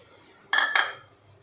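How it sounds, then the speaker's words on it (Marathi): A small pot set on a gas stove as milk is added, two quick metallic clanks close together, close and fairly loud, then a faint room hush with no talk. "गॅसवर छोटं पातीरं ठेवलेलं आहे त्यामध्ये आपल्याला इथे सव्वा वाटी दूध घ्यायचं आहे"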